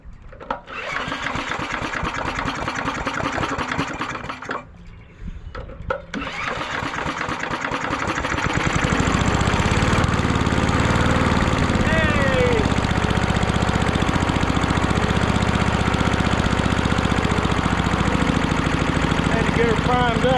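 Small engine with its shroud off cranks, catches after a short pause and then runs at a loud, steady, rapid idle, with a voice talking briefly early on.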